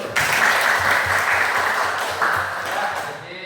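A classroom of students claps together at the teacher's request, a loud, full burst of applause that starts abruptly and continues steadily for a few seconds before fading.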